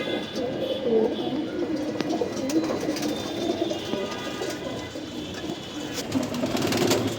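Racing pigeons at a home loft, several birds giving soft repeated throaty coos close by, layered over a continuous low background hum with a few faint clicks and rustles.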